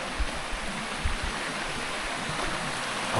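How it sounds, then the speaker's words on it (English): A small stream flows with a steady, close rushing wash of water, a few soft low thumps scattered through it. "I hear the water."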